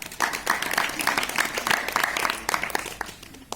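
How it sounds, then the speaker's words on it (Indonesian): A crowd claps steadily in a dense burst of applause, lasting a few seconds. "Tepuk tangan untuk dia"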